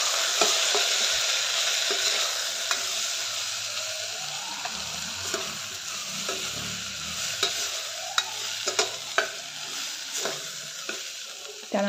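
A spoon stirs rasam powder mixture in a sizzling pan, scraping and clinking against the metal over a constant soft frying hiss, with a few sharper knocks toward the end.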